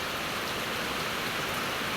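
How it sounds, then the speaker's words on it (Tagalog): Steady rain falling outdoors at a rural farm, a continuous dense hiss of drops with no breaks and no voices. "Ulan na pud diri sa amo"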